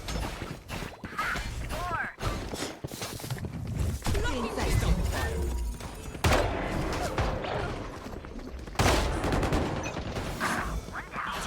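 Rapid gunfire bursts and weapon sounds from a Valorant pro match at Masters Bangkok crackle steadily beneath an excited commentator's voice.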